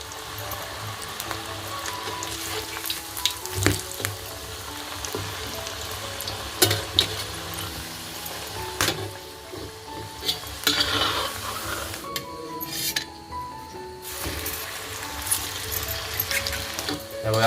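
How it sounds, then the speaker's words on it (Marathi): Alu vadi, colocasia leaf rolls, frying in hot oil in a pan over a stove fire, a steady close sizzle with stirring clinks and scrapes, briefly quieter near the end. "तव्यामध्ये आता तेल आपण गरम करायला ठेवलं होतं आणि आता अडूवडी टाकलेली आहे"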